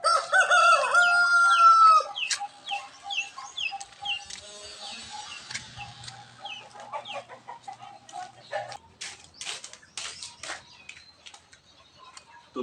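Chickens in a coop: a rooster crows loudly up close at the start, then hens keep clucking in scattered bursts, with sharp ticking and pecking sounds around them.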